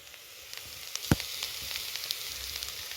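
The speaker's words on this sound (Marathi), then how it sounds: "थोडी फ्राय करायची मसाल्यामध्ये" Kuda flowers, a wild village vegetable, frying in spice masala, a quiet steady sizzle with light crackles and one sharp stir or clatter.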